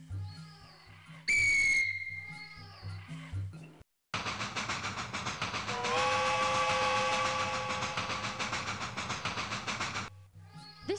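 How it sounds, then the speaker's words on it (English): A steam-style train whistle from the video game Max and the Secret Formula blows loud and long, followed by a departing train rumbling steadily with a rhythmic chug, set against light game music. "The underbed train is leaving immediately."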